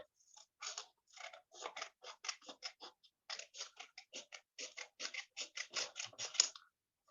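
Scissors snip away the extra part of a sheet of A4 origami paper in a quick, uneven run of close, crisp cuts, with short pauses between bursts.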